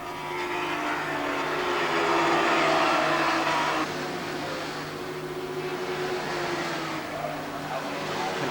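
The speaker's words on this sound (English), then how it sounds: "Ian Perot there on the first of the VF 750R Hondas that they brought out for racing" Honda VF750R motorcycles race in the Surfers Paradise 3 Hour, a continuous engine roar that is loudest at first and then eases to a steady drone, with commentary over it.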